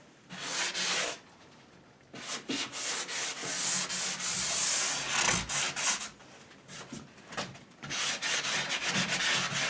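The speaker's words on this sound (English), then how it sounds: "when you run the sanding block over it" A sanding block scrapes back and forth over milk-painted wooden furniture in rhythmic, gritty strokes, loud and close, with a short pause early on.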